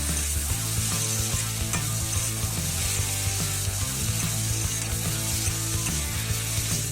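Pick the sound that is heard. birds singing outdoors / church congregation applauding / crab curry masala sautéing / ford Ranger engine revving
crab curry masala sautéing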